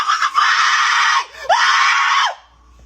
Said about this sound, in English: The scream came.